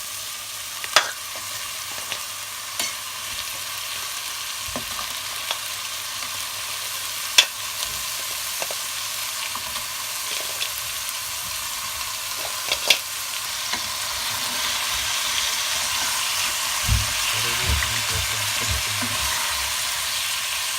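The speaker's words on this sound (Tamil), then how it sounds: "இப்போ இந்த நண்டை இதில் போட்டுடலாம்." Crab goes into a pan of fried ginger-garlic paste and fries with a steady, loud sizzle, scattered pops and occasional spoon scrapes, close by with no voices.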